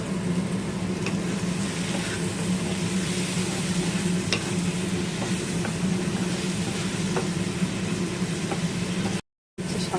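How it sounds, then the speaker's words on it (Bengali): Tomato paste goes into a pan of spices and cumin powder frying for a bhetki fish curry, giving a steady, close sizzle with faint scraping and stirring throughout. "এখন এর উপর দিয়ে দেবো টমেটো বাটা"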